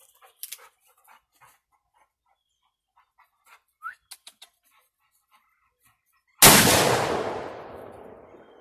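A single loud shot from a Ruger Old Army black powder revolver loaded with 25 grains, fired at a steel plate outdoors, cracks sharply and rings off into a fading tail after scattered quiet bird chirps.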